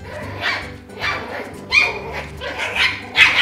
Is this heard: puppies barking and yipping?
yes